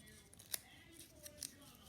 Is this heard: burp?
no